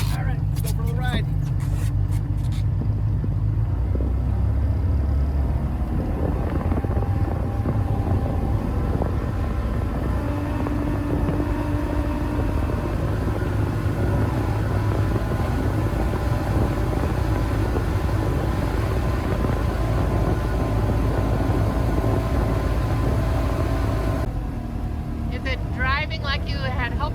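A Sea-Doo Speedster jet boat's newly rebuilt engine drones loudly and steadily on the water, a close, sustained roar through the ride with a voice briefly heard near the start and end.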